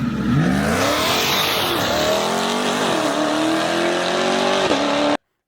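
A supercharged C8 Stingray Corvette engine revs hard and loud up close, its pitch climbing and sweeping up and down before it cuts off abruptly.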